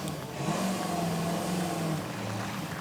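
Big car's engine at the Festival of Speed hillclimb, a steady mid-distance engine drone that rises slightly and holds, with no talk over it.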